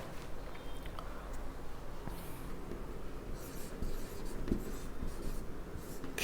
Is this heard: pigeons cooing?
no